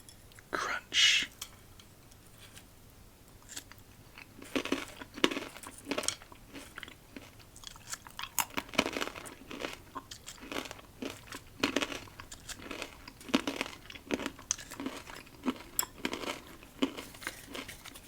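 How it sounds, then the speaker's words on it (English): Crunchy chewing of BBQ corn nuts repeats in irregular bursts close to the microphone, with occasional bag crinkling between bites; soft whispered talk is present at times. "Try counting along how many corn nuts I eat before you fall"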